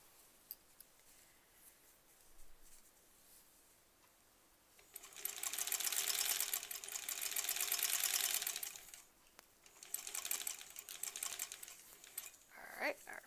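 A sewing machine runs a border seam on a Granny Squares quilt, pushing through several layers of fabric in two steady bursts of rapid needle chatter after a quiet start, with a brief softer run near the end.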